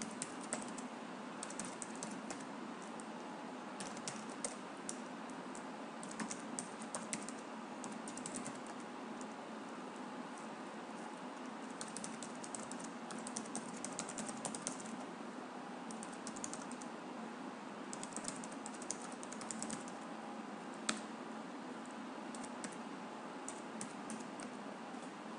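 Steady typing on a computer keyboard while filling out an online sign-up form, with continuous rapid key clicks at close range and no talking.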